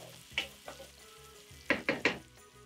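Diced red onion sautés in hot vegetable oil with a faint, soft sizzle, punctuated by a few sharp clinks of a utensil against the pan.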